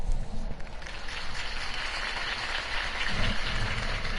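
Crowd applause following Harvey Dent's campaign speech in Batman: The Telltale Series, a steady wash of clapping at moderate volume that swells slightly toward the end.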